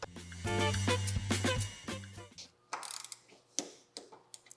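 A small torque wrench set to 15 newton metres tightens 13 mm bolts while air struts are replaced on a bagged car. A close ratcheting rattle and low hum give way to a few separate sharp clicks and small metallic taps.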